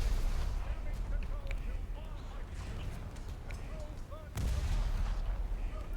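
Heavy naval turret guns fire from a British battlecruiser, HMS Renown, in a warship video game, deep booming blasts rolling under a steady background rumble while someone talks throughout.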